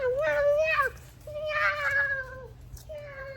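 A cat gives three drawn-out meows, close and clear, over a low background hum.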